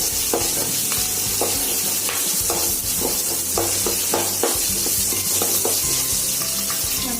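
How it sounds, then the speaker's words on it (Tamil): Green chilli, spices and asafoetida frying in oil in a pan while being stirred, a loud, close, continuous sizzle with repeated scraping strokes of the spoon, no talking. "பெருங்காயம் எல்லாத்தையும் ஆட் பண்ணிட்டு நல்லா மிக்ஸ் பண்ணிக்கோங்க. ஒரு 1 மினிட் ஃப்ரை ஆகும்."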